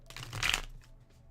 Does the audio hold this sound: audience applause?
no